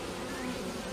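Bees buzzing at an opened hive make a steady, close, dense drone that fills the whole second, with no voices.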